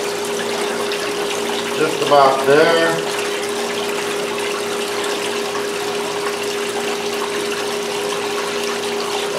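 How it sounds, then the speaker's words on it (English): Water pours into a hydrographic dipping tank to raise its level, a steady close gushing and hiss with a brief louder swirl early on while a person speaks a few words. "So we'll raise the water level up"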